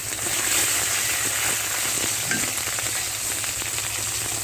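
Pangasius fish oil sizzles and crackles steadily in a hot pan while a Bengali pangas tomato curry is being prepared. The frying stays loud and continuous throughout, with no talking.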